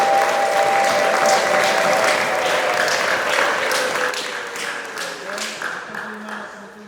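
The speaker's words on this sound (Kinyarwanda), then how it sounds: "tuyikomera amashyi Imana" A church congregation claps together in sustained, dense applause that fills the room, staying loud before thinning slightly toward the end, with a faint voice and a sustained tone running beneath.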